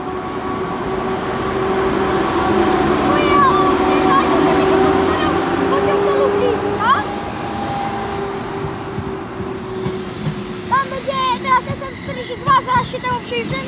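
An Intercity passenger train hauled by a yellow-fronted EP07 electric locomotive pulls out of Katowice station, with a steady loud rumble, squealing wheels and screeching rails, and someone talks over it throughout.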